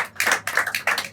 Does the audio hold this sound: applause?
yes